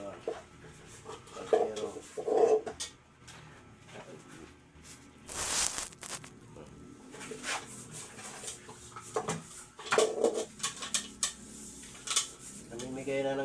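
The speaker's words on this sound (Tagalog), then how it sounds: "Guhugas tayo ng plato" Dishes are washed by hand with scattered clinks of plates and cutlery, a clattering burst in the middle, and bits of talk between.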